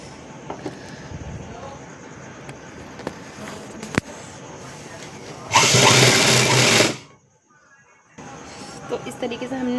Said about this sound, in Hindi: 1/2 इंच की मार्जिन लेकर हम इसके ऊपर स्टिच कर देंगे